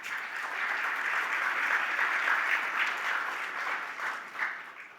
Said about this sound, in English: I would appreciate it if we can give a round of applause for all women in the sector and across the world